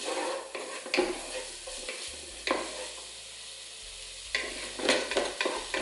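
Onions sautéing slowly in a pan on low-medium heat, the base for soul-food green beans with smoked turkey sausage: a soft, steady sizzle broken by several louder scrapes and clatters as a utensil stirs them, with no talking.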